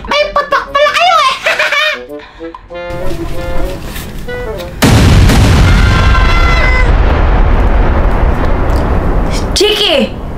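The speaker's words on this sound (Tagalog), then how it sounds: "kung sino yung mas malakas ang putok ng boga" Children chatter and shout, then a loud booming bamboo cannon blast bursts out and rumbles on with a long noisy roar, a voice returning near the end.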